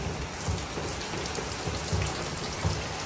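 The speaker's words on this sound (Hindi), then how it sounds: "इतनी बारिश शुरू हो गई है, पानी पानी हो गया।" Heavy monsoon-style rain pouring outside a home, a dense continuous hiss of drops hitting surfaces with occasional low rumbles, steady and enveloping with no talking.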